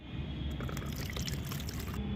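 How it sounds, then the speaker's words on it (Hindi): Water in which aloe vera has soaked is strained, giving a steady close trickle and pour of liquid that runs continuously throughout with no voices. "अब हमें इसे छान लेना है और डाइल्यूट करना है।"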